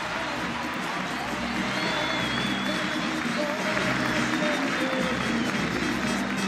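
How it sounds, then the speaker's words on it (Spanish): A stadium crowd applauds and cheers for the MVP at an Alianza Lima women's football championship celebration, a thick continuous wash of clapping and crowd noise throughout. "Los aplausos para Sandy."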